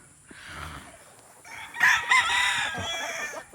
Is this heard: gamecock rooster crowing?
yes